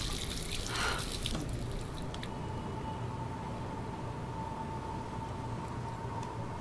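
Water runs from a bathroom faucet in Life Is Strange, a steady close hiss of flowing water after a brief splash at the start, continuing alone at an even level.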